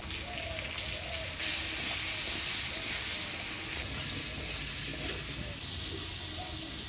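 Cut potatoes added to hot oil tempered with whole cumin give a steady, close hissing sizzle that holds evenly throughout.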